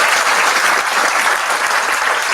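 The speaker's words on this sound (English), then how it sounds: "So please give a round of applause to all of our sponsors." Loud, dense clapping from a crowd at a dental school white coat ceremony, continuous and even throughout with no voices over it.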